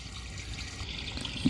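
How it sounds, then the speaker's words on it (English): A faint, steady rush of water flowing, low and muffled as if heard through a pipe, with no voices. "I can almost hear the water kind of gushing"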